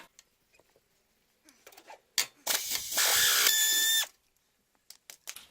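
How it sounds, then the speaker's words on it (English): A strut bolt being removed during a coilover install on an Infiniti G35: faint clicks and taps, then a loud burst of a power tool running for about two seconds before stopping, followed by a few light knocks. "And then we're going to remove our strut bolt."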